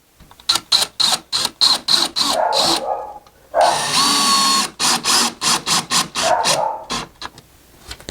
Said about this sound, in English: we're going to come in here, and we're going to put a screw.